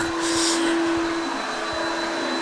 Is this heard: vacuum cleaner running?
yes